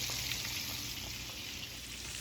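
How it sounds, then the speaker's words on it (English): Brined chicken frying in oil at about medium heat gives a faint, steady sizzle with soft scattered pops, with no voices. "It's like sizzling and popping, but at like the lowest temperature I can"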